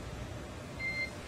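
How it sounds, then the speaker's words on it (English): A short, faint electronic beep from SpaceX Dragon radio communications sounds once over a hissing, static-filled channel. "And you'll be hearing those very characteristic beeps."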